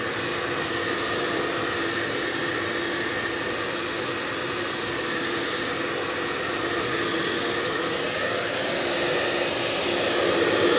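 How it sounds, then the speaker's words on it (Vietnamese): A handheld hair dryer runs steadily at close range for the whole stretch, a loud even airy roar that swells slightly toward the end. "cầm tự tin cầm cái máy sấy tóc để sấy những cái khu vực nào mà mình cần phải tập trung"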